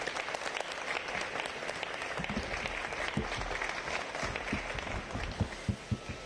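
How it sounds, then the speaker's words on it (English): A fairly quiet audience at the naming event for Savannah's Enmarket Arena gives Matt Clements a warm round of applause, with scattered distinct claps standing out toward the end. "extending a warm round of applause for Matt"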